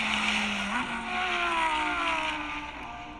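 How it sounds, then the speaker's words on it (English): Lamborghini Huracán STO track car engine on a straightaway, recorded through a phone, a steady high-revving whine with a rising pitch as it passes, heard at a distance through a thin, compressed tone. "The brand new Lamborghini Huracán STO is a race car for the tracks"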